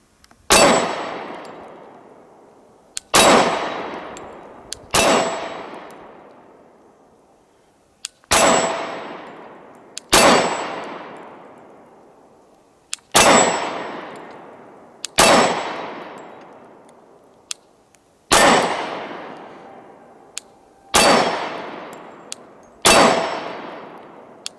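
A Glock 22 Gen 4 pistol with a BT guide rod fires about ten evenly spaced shots at a steel target. Each crack is followed by a bright metallic ring that fades over a couple of seconds.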